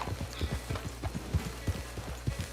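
Hooves of a horse clip-clop at a steady walking rhythm in the Old West world of Red Dead Online, fairly close and moderately loud, with no talking over them.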